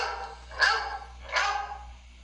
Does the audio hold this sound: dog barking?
yes